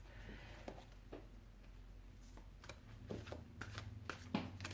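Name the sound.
shuffling a deck of tarot cards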